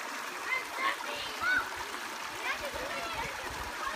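A child plays in the water while camping, with soft, irregular splashes and trickling water in the middle distance and a few brief squeaky cries in between.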